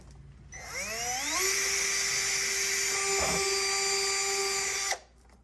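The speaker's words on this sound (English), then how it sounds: "So I have to drill a hole on the other side" A power drill bores a hole through a truck's body panel, its whine rising quickly as it spins up, then holding a loud, steady high-pitched pitch for about four seconds before abruptly stopping.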